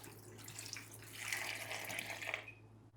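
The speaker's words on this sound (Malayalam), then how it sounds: "കുറച്ച് വെള്ളം ഒഴിക്കാം." Water poured from a tap into a pot of mangoes for Kerala-style mango pulissery, a faint, steady splashing stream that swells midway and then cuts off.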